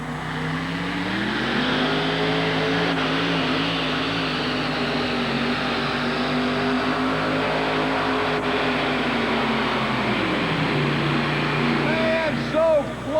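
Super Chevy monster truck engine roaring steadily at a 1990 USHRA truck pull, a loud sustained rumble with shifting pitch for most of the stretch, easing near the end, while an announcer talks over it.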